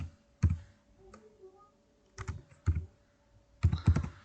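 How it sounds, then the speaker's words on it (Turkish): Keys clack on a computer keyboard in short bursts of typing separated by pauses, close and distinct in a quiet room. "Buraya everyone yazıyorum."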